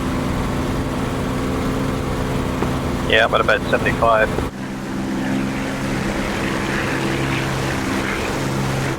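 A steady, droning piston aircraft engine in flight in a WWII flight sim over Kola in 1943, running constantly throughout, with someone briefly talking over it over the radio.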